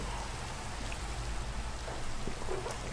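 Steady rainfall in the video game Minecraft, a dense even hiss of falling rain with low rumbling underneath, continuous and fairly soft throughout with no voices.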